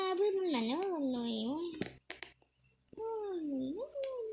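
A Minecraft cat gives long, wavering meows up close, one drawn-out call, a brief break with clicks, then another bending meow, with a voice and game sounds faintly beneath.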